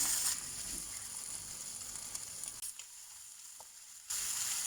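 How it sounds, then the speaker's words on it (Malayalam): Crushed ginger, garlic, black pepper and fennel sizzle and fry in hot oil for an egg roast, giving a steady close crackle that briefly quiets and then swells again, with no talking. "ചൂടായി വന്നപ്പോൾ ഈ ക്രഷ് ചെയ്ത സാധനം, ഈ ഇഞ്ചി, വെളുത്തുള്ളി, കുരുമുളക്, കരൽസി ഇതിട്ട് കൊടുക്കുന്നു."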